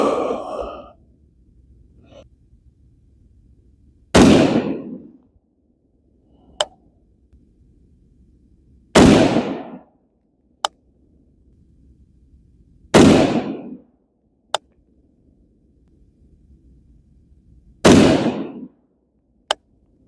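A rifle with a Rosco Manufacturing 16-inch Barrel & Hatchet K9 barrel fires 75-grain AAC ammunition on a precision range, grouping shots. Four loud cracks ring out several seconds apart, each with a fading tail, and small sharp clicks sound between them.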